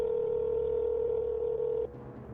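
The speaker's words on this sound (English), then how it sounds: "Without hesitation, he picked up the phone and called Demus." Phone tone in an animated series: a steady, loud dial-tone hum holds for nearly two seconds, then cuts off abruptly and leaves quieter room noise with no voices.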